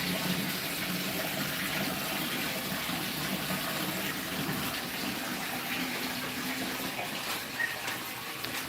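A steady gush of water from a village water-supply pipe pours without a break, a continuous splashing rush with no talking over it.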